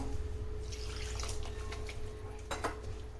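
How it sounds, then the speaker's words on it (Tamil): Water pours and drips into a dish of roasted eggplant pachadi, with light clinks of a pot or utensil, close and quiet over a steady background hum. "நமக்கு வேணுமோ அந்த அளவுக்கு நம்ம தண்ணி விட்டுக்கணும்"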